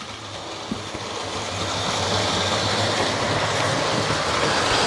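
Hornby GWR Star and Castle Class model locomotive running on track, a steady, moderately close rolling rumble with faint rhythmic wheel clicks, gradually growing a little louder and continuing without pause.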